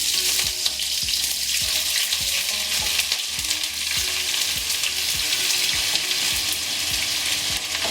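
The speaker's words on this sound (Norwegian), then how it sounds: "Da steker vi litt løk først." Onions fry steadily in a hot pan, a dense continuous sizzle with repeated soft scraping knocks as they are stirred, close and loud with no talking.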